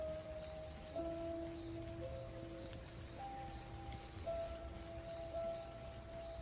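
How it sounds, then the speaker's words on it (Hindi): Cold winter rain falls softly and steadily in a quiet rural village, faint and distant, with a few chirping insects or birds and a low hum beneath. "ठंड की पहली बारिश का मौसम था।"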